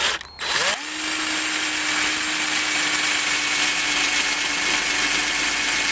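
A power drill bit grinds into a soft jaw while a hobbed bolt is made by hand, starting with a short clatter and then settling into a loud, steady, continuous whine that runs to the end.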